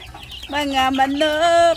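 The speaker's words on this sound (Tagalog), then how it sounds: "Nagutom na ang mga manok." Hungry chickens on a farm cluck and call close by in a few drawn-out, tonal bursts, with faint background noise.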